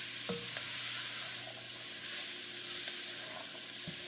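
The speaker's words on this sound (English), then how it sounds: "Let the vegetables get sauteed." Bell pepper, celery and garlic sautéing in a pan for courtbouillon, a steady low sizzle with a few faint stirring clinks near the start and end, heard close and alone without talk.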